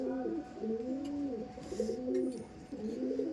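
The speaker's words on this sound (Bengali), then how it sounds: "দেখুন এই শীতে ওড়ান পায়রা" A Madras tournament pigeon coos in a repeated rolling pattern, close and fairly loud, with several phrases of the call in succession against a quiet background.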